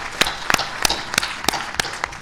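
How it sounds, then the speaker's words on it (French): A few people clap at an International Customs Day ceremony, with sparse, distinct claps at a slow, irregular pace, close and fairly loud. "Je crois qu'il faut applaudir la douane."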